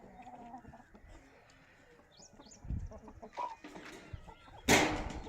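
Chickens cluck in short, irregular bursts near the microphone, with a louder squawk near the end and some farmyard rustling.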